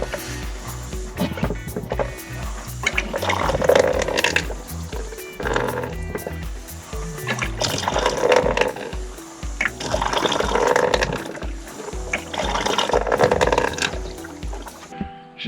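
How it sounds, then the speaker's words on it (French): A cheap foot-operated water pump worked by foot, pushing water into a hose at a cabin, giving a steady rhythmic creaking and sloshing that repeats for several seconds at close range. "il me suffit de pomper avec mon pied gauche. une ou deux fois je pense pour que ça commence à monter en pression et que ça arrive dans le tuyau"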